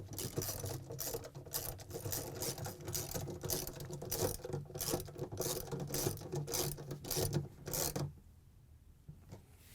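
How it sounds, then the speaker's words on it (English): A 10mm socket ratchet clicks rapidly and steadily for about eight seconds while tightening bolts on a Samsung washer clutch assembly, close and fairly loud, then stops abruptly into silence. "we can use our 10mm socket to put the bolts back in."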